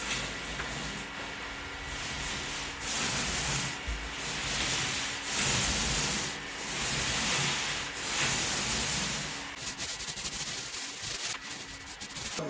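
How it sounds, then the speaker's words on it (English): A paint roller spreading sealer onto a stained ceiling, rhythmic raspy swishes as it passes back and forth at close range, with no talking. "we're going to roll only the sections that we put our sealer on."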